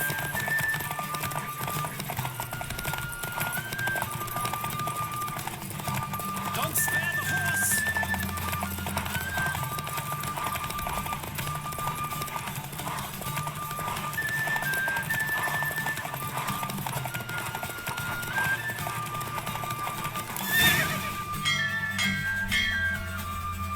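Roach the horse galloping in a Witcher 3 race, steady hoof clatter with occasional whinnies over a constant bed of game music, one louder burst near the end.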